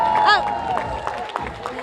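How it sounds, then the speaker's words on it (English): Crowd applause at an election night event, a dense wash of clapping and cheering from a gathered audience, steady in level with a voice talking over it. "More applause right there."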